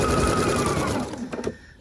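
A home sewing machine stitching a scrub cap runs as a fast, steady mechanical whir for about a second, then slows and stops with a couple of faint clicks.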